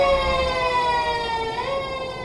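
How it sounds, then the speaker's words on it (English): A loud, steady wailing siren in Euro Truck Simulator sustains a bright tone that bends upward partway through, sounding close over low road rumble. "That was an interesting siren"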